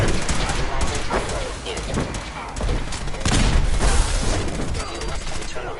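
Sustained gunfire in a Fallout 4 firefight, dense overlapping bursts and booms that build in intensity, with shouted voices mixed in.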